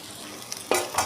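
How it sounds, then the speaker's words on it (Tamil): Food seasoned with turmeric, chili powder and salt fries in a pan for a Tamil home recipe. A quiet sizzle runs throughout, broken by two short stirring scrapes near the end, with no talking. "இதை கொஞ்சம் நல்லா ஃப்ரை பண்ணி விட்டுப்போம்."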